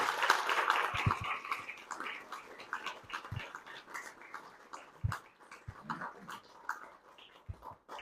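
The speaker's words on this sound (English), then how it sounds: "Let's all give them a huge round of applause" Applause from the audience at a city council candidate forum in St. Marys for the Post 4 and Post 6 candidates: steady, moderate clapping that thins out into scattered claps, with a few louder individual claps standing out.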